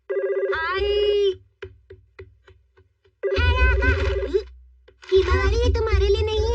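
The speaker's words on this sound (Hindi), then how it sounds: "किसका फोन होगा?" A telephone rings in a Shinchan cartoon, its repeated electronic ring tone sounding loud and close in bursts, with cartoon character voices and music around it.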